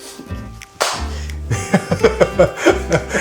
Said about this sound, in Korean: 박수 치고 시작.